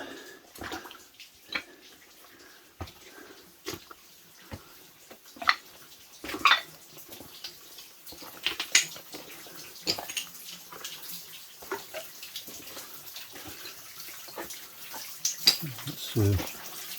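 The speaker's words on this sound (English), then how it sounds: "Hear a lot of water and all that." Water trickling and dripping through rocks inside the entrance of an old quarry mine in Cumbria, a faint continuous flow with scattered drips and footsteps, while people talk quietly.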